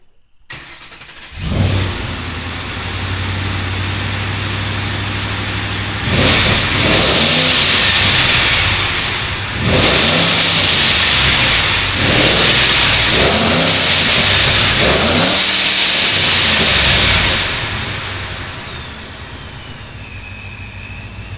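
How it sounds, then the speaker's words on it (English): A Gen 1 Coyote V8 fitted with a ProCharger Red Race bypass valve starts and revs repeatedly, loud and close, with several sharp throttle blips and valve releases between steadier idle stretches. "That was the Pro Charger Red Race bypass valve."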